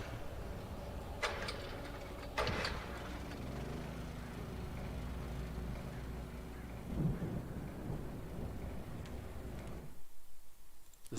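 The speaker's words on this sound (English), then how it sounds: "The storm raged on as the Anderson brothers walked unsteadily a" Storm ambience in the video game Alan Wake, with a steady wash of rain and low rumbling thunder, two sharp crackling bursts early on and a deeper roll later before the sound drops away near the end.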